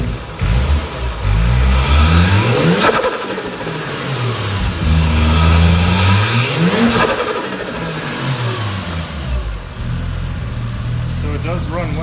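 Toyota 1JZ engine swapped into a Lexus GS350 idling close by, then revved twice with rising and falling sweeps, a rough running fault recently improved; someone talks over it at times.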